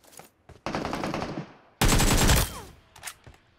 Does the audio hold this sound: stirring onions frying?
no